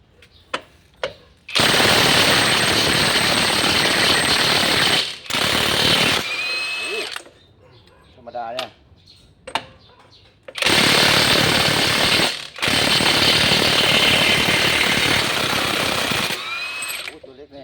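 A cordless battery impact wrench with a one-inch extension bar loosens a nut in two long, loud bursts of rapid hammering, separated by short clicks and a brief spoken exchange.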